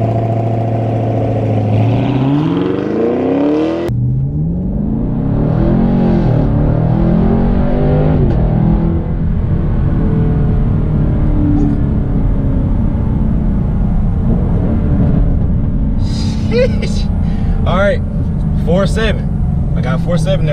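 A 2019 Chevrolet Camaro SS launching hard in a 0-60 run: a loud, rising engine roar climbs through the gears from a brief idle rev, close and continuous, with a voice talking over it.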